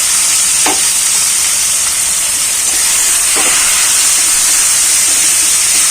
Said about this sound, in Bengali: পেঁয়াজ ফ্রাই আমার হয়ে গেল আমি দিয়ে দিলাম টমেটো